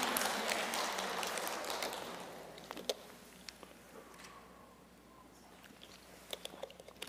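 Congregation applause during a Sunday church service fills the room at first, a dense spread of many hands clapping that fades over a few seconds, leaving scattered single claps in a quieter hall.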